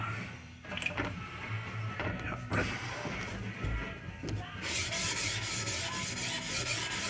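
A single bevel knife is drawn across a sharpening stone from tip to heel, giving soft, repeated rasping strokes that are quiet and close, with light taps and a louder, steadier scraping toward the end.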